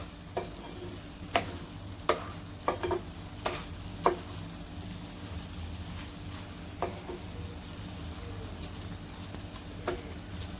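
Prawns masala simmering in a pan, a quiet continuous sizzle broken by sharp clicks and clinks of a spoon stirring against the metal, close and faint.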